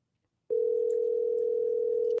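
A telephone dial tone plays while a caller is being called back: one steady, unbroken hum that starts abruptly, holds for under two seconds and cuts off, with no voices.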